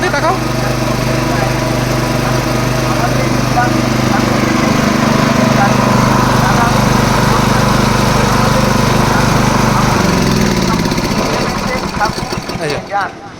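Grinding mill turning roasted chickpeas into hot sattu flour, a loud, steady motorized drone with a strong hum that runs evenly, then winds down and changes pitch near the end.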